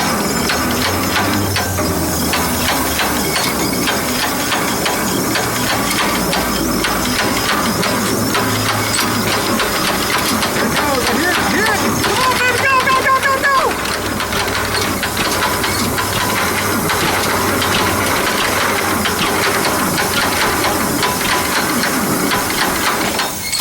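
An old John Deere tractor engine cranks and churns with a loud, continuous mechanical clatter and knocking, a rough, heavy drone close by that holds steady for over twenty seconds.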